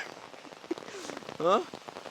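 Rain falls steadily on an outdoor film shoot location in Wayanad, Kerala, a soft continuous patter with a brief voice rising over it partway through.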